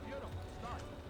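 Racehorse hooves gallop in the video game Gallop Racer 2004, a soft rhythmic drumming of strides under someone talking, quiet and brief.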